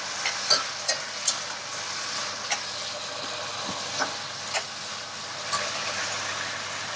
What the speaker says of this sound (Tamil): தக்காளியை போட்டு லைட்டாக ஒரு கிண்டிக்குங்க.